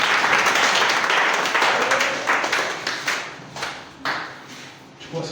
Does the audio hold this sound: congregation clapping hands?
yes